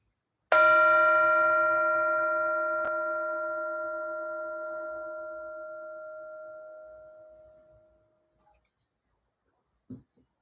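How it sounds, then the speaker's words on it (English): A single bell struck once during a Sunday church service, ringing loud and clear and then fading slowly over about seven seconds, with a faint knock near the end. "So we'll do that bow after the bell."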